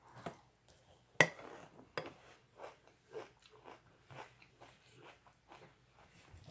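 Crunchy bites and chewing of Fruity Pebbles cereal at breakfast, close and fairly quiet, a steady run of crisp crunches over about six seconds with a faint background hum.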